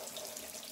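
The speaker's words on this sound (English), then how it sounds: "Proper hot water from the tap." Hot water running steadily from a household tap into a sink, a continuous close splashing hiss with no talk over it.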